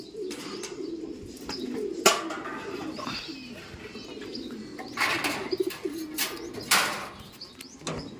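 Racing pigeons returning to a loft coo softly over a steady outdoor murmur, with occasional chirps and a brief flutter of wings nearby.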